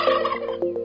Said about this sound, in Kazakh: Күркетауық күркілдейді.